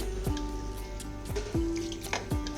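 Lukewarm water dripping and splashing over masoor lentils in a bowl, a few distinct drips and small pours landing at intervals over a faint background hum.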